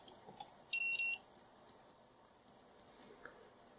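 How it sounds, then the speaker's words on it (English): A continuity tester checks a broken light switch and gives two quick, high electronic beeps close together against a quiet room. "Just try continuity tester."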